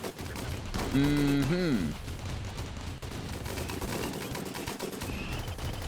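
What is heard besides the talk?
defensive turrets firing at enemies in a colony survival video game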